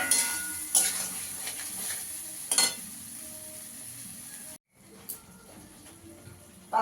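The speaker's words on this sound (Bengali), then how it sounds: "এবার ফুলকপি আর আলুটা দিয়ে দেবো।" Cauliflower and potato pieces go into already-fried spices in a pan for a bhola fish curry, and a quiet sizzle follows. A few sharp clanks of a utensil sound against the pan, then a brief silence and more soft frying.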